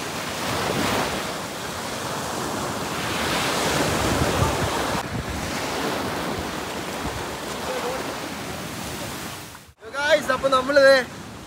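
Sea waves surging onto a Lakshadweep beach, a continuous close roar of surf with wind buffeting the microphone, ending with a brief burst of voices.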